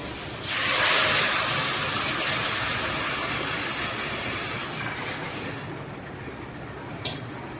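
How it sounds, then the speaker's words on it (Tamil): Water hits a hot pan of little millet pongal with a loud hissing sizzle that surges, then slowly settles into a steady bubbling hiss. "இப்போ அளந்து வச்சிருக்கிற ஆறு கப் தண்ணியை நம்ம இதில் சேர்த்துக்கலாம்"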